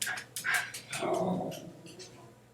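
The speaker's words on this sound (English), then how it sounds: "if you hear my dog running back and forth, it's because the mailman's coming" A dog barks and yips a few times, slightly muffled and off in another room, followed by a short whine.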